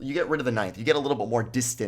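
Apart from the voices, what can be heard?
None of the usual background noises is heard.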